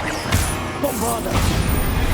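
A Bombarda blasting spell goes off in Hogwarts Legacy, a loud crashing impact followed by rumbling debris and magical whooshing, with another blast near the end.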